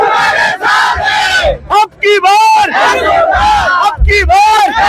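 A crowd loudly chants rhythmic political slogans in unison at a Narendra Modi rally in Wardha, with voices rising and falling in repeated calls, close and energetic.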